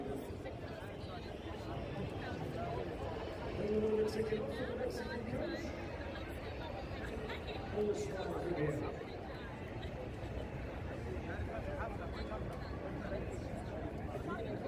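A quiet, tense crowd of mostly Mexican supporters at an outdoor World Cup watch party in Brooklyn Bridge Park for Mexico versus South Korea, a steady low murmur of chatter with a couple of brief swells.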